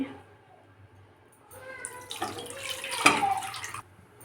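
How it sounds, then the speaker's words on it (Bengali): Mutton curry being poured into a kadai, a wet splashing pour building up after a quiet start, with a clink of utensil and soft background noise. "এরপর এটা আমি কড়াতে ঢেলে নিচ্ছি"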